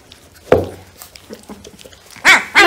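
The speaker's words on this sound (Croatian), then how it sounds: "I onda on koji laje." A newborn puppy in a litter gives two short, close, yappy barks near the end, after a softer thump and faint whimpering sounds.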